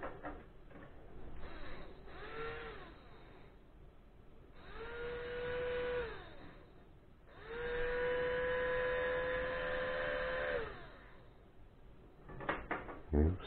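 A rotoverter electric motor spinning up, humming steadily and winding down in three runs, each longer whining tone holding for a few seconds, followed by a couple of sharp clunks at the end.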